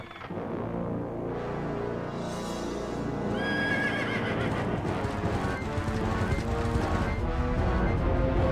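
Phantom horses from the game Zelda: Twilight Princess neigh loudly and gallop with a rapid clip-clop of hooves, layered over dense game music throughout.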